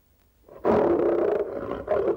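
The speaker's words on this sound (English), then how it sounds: "Ah, a lion." A lion's roar, loud and close, rises suddenly and holds as one long, rough, rumbling bellow with a brief dip and a second surge near the end, with no speech.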